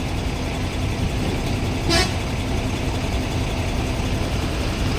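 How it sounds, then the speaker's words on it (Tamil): A single short car horn toot sounds briefly over a steady background rumble of engines and traffic on a foggy, muddy road near Ooty. "எல்லாம் ஹாரன் அடிச்சுக்கிறாங்க"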